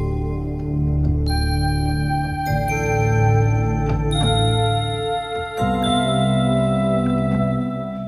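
A Roland D-50 patch played in Roland Zenology plays layered, bell-like chords with shimmering high partials and a sustained pad underneath, changing chords several times, loud and continuous with no voices.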